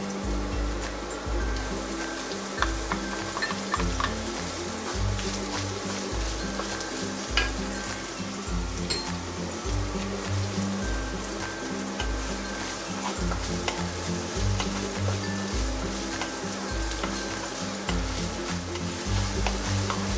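White onion and garlic fry in a hot pan for shepherd's pie, a constant close sizzle with rhythmic stirring and scraping strokes running throughout.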